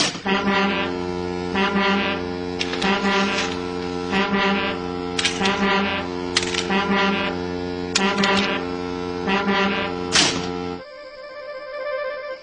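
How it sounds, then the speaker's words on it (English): A railway foghorn blares in repeated loud, droning blasts of a few seconds each with short gaps between them, then stops abruptly, leaving a quieter steady hum. "It's a new invention, a railway foghorn, said the Fat Controller."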